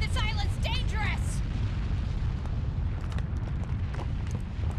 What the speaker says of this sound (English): It exploded like a boiler!